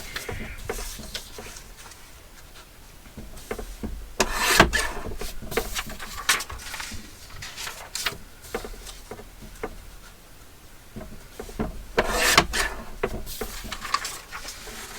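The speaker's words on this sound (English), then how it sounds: "So why don't I just go ahead and cut the rest of the sides of these down. I've got the guillotine here." A paper guillotine trims the sides of laminated floral cabinet card pockets, with repeated close scraping and slicing strokes and a few louder bursts of cutting along the way.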